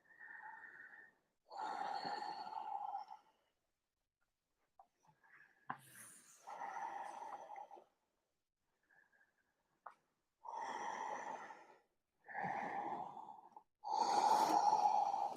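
Slow, deep yoga breaths during a held pose come close to the mic, each inhale and exhale a soft rushing puff of a second or two, separated by quiet pauses and repeating about six times.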